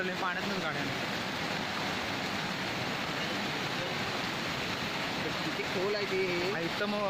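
Floodwater rushes down a river after heavy rain during a record flood, a dense, unbroken roar that stays loud throughout, with a voice briefly audible near the end.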